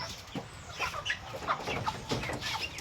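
Newly hatched chicks peep in short, high, repeated chirps, fairly close and at a moderate volume, in a quick irregular patter lasting a few seconds.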